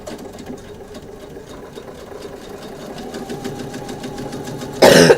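A sewing machine runs steadily with a rapid mechanical stitching rhythm, moderately loud, ending in a brief louder burst of noise.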